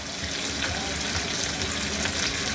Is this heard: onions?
yes